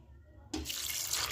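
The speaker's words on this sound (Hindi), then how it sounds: "पानी डालेंगे।" Water pours from a tap or jug into a cooking pot of chana dal lentils with bottle gourd and turmeric, starting abruptly after a brief quiet and running as a steady, close, splashing stream.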